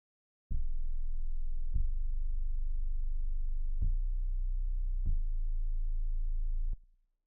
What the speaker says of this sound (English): Next, I have the sub bass playing the root note of the chord progression